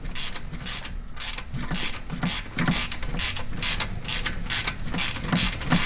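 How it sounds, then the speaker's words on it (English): A ratchet wrench turning a spark plug that spins freely in a damaged engine, a steady run of close, rhythmic clicking strokes repeating for the whole stretch. "you can sit here and you can wrench on it, and the plug will never get tight"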